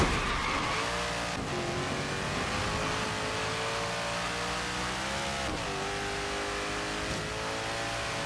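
Racing video game truck engine said to reach 200 mph in fifth gear, revving hard and steady with shifting pitch, loud and close, with brief tire squeal and skidding over continuous engine drone.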